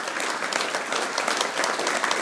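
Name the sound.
applause for the cook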